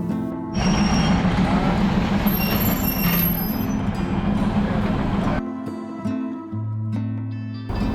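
A train rumbles loudly into a station platform in Kanchanaburi, Thailand, with rattling wheels and a high squeal, then the noise drops as it slows to a stop, leaving a lower hum.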